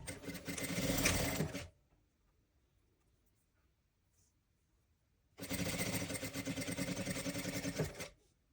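Sewing machine stitching the leg of a fox toy, two loud close runs of rapid whirring stitches separated by a few seconds of near silence.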